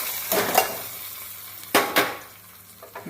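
Hot tempering poured into moru curry, a spiced buttermilk curry, bursts into a loud close sizzle twice with stirring and pan scrapes, then quiet hiss, no voices.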